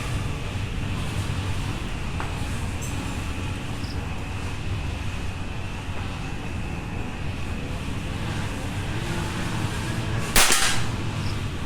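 A single sharp report from a .22 caliber PCP air rifle with a 27-inch barrel, fired outdoors at target practice in strong wind; one crisp shot stands out near the end over steady wind rumble.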